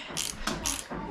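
A hand ratchet clicking in quick bursts while unscrewing a bracket, three or four short rattling pawl runs close up with no talking.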